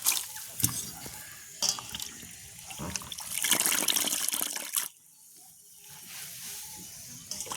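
Water splashes and sloshes as mushrooms are rinsed by hand, with running tap water and irregular wet swishes, then a quieter pause before more splashing.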